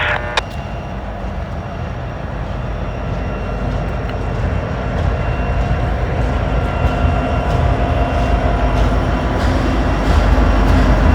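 A long loaded coal train rolls past on a Norfolk Southern main line, a loud continuous rumble of wheels and cars with rattling and squealing metallic flickers, steady and close throughout with no talk.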